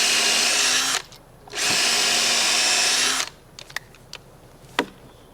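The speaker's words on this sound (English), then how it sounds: "Pre-drill to take the main shank of the screw." A power drill pre-drills wood for a screw shank while a workbench is assembled. Two sustained whirring bursts, the second longer, are followed by a few light clicks and taps.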